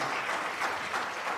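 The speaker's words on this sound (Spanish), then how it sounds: "Yo creo que el Señor se merece un fuerte aplauso" Church congregation applauding together, a steady wash of many hands clapping at moderate distance, filling the whole moment without breaks.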